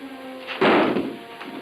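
A gun is dropped to the floor in an old 1937 Western serial scene, landing as a single dull, close thud that fades quickly, with no talk over it.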